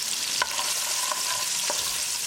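Garlic and cashews sizzle steadily as they fry in a pan for shrimp pasta, with a few distinct spatula scrapes from stirring, up close and without talk.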